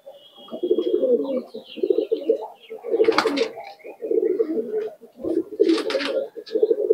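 A female Chinese Kamagar pigeon coos in soft, repeated low throaty phrases close by, with a few brief sharper noises breaking in between the coos.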